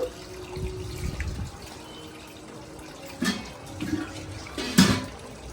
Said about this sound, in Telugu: ఇప్పుడైతే వాటర్ పోసుకుంటున్నానండి కొంచెం నేను